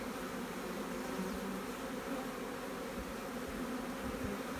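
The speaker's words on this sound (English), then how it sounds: "Look at those bees feeding the larvae there." Honey bees crowd a queen-rearing frame while feeding larvae, a dense, even buzzing held close and steady from start to finish with no talking.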